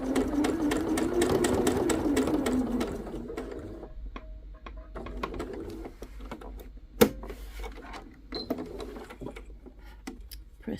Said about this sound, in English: so as I'm sewing it, I'm gonna try and hold it in place just to adjust it a little bit